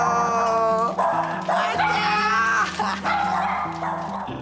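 Several puppies at a quiet village house yip and bark in quick, excited bursts, heard close over loud background music.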